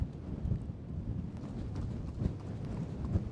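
Horse hooves clip-clop at a walk and trot during a cold, windy ride through the Mongolian wilderness, with soft, irregular low thuds heard close by under steady wind rumble.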